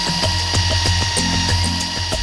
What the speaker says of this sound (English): The drilling has started, so the tiny microchip can be placed in the horn.